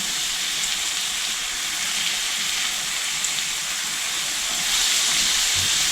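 Tomatoes frying with peppers in a pan, a dense, steady sizzle and hiss that fills the space close by, swelling slightly louder toward the end.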